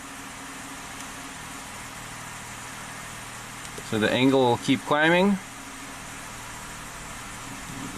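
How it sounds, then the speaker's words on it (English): A Lexus engine with a variable valve timing fault idles steadily and runs slightly rough, a constant low mechanical hum heard throughout, with someone talking briefly over it midway. "The engine is running a little rougher now."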